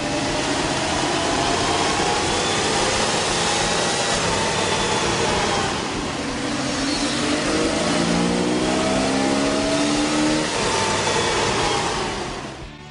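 A 1997 Jeep Wrangler's 4.0-liter engine with a K&N air intake runs on a dyno, droning loud and steady and climbing through revs in a rising sweep midway, then easing off at the end.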